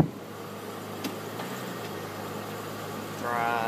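A 1999 Isuzu Rodeo engine idles in a steady, moderate hum while the transmission is shifted into reverse, with a few faint clicks and a slight swell near the end.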